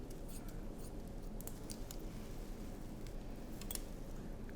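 Scissors snipping through voluminous curly hair during a haircut, a soft steady run of small close snips and ticks over a low background hum, with no talking.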